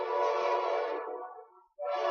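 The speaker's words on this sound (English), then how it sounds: "Wait for the train to go by." A train horn sounds loud and close, a sustained blast that fades out before a second blast cuts in, with no talk over it.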